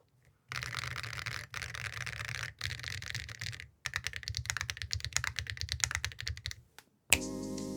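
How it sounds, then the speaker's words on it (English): Fast typing on copper metal keycaps fitted to a Glare TKL keyboard, heard close up as dense, deep clacking runs separated by a few short pauses. "Overall, these keycaps sound extremely deep, as is to be expected from the overall mass and density of the caps themselves."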